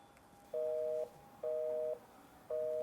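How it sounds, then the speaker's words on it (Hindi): A telephone busy signal: three evenly spaced, steady tone beeps with short pauses between, clear and alone. "तुम्हारा फोन तो अभी भी बिजी आ रहा है"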